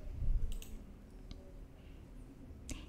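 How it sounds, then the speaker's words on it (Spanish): A mouse click on a save button, a few faint isolated clicks spread over a quiet stretch with low background hum. "vamos a darle clic en guardar"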